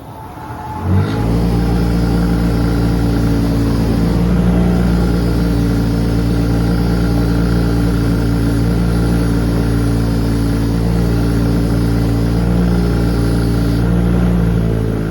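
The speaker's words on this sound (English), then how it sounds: "We're going to wire wheel this." A wire wheel spins steadily at high speed while cleaning rusty brake hardware from a Kia Soul, a loud, continuous motor whine and grinding hum that starts abruptly and holds for the whole stretch.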